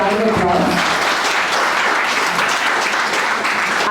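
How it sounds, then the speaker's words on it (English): An audience at a book launch claps in a sustained, dense round of applause, loud and steady throughout, with a brief voice near the start. "Can we please give these lovely ladies a huge round of applause?"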